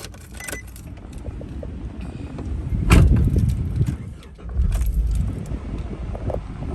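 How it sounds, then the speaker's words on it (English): A 2012 Nissan Patrol ST wagon starts: keys jangle, the starter cranks briefly and the engine catches into a low steady idle, heard from inside the cabin with some rustling. "I'm just going to start the vehicle up right now, Darcy."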